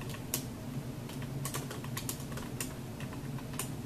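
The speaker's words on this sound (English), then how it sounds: "type in my words" Keys on a computer keyboard are tapped in quick, irregular bursts of light clicks, close and fairly quiet, with no talking.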